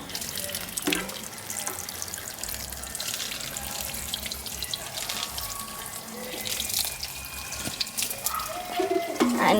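Running water pouring steadily while watering tomato plants in a garden, a continuous splashing flow with faint bird cooing in the background.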